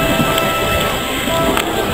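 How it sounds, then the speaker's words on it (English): Steady rain falls throughout during a ride on a heritage railway train at a Day Out With Thomas event, a constant close hiss of drops with no pauses. "And it's still raining again."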